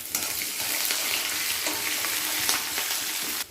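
Urad dal, curry leaves and chopped green chillies sizzle loudly in hot oil for a tempering, a steady close crackling hiss that stops abruptly near the end.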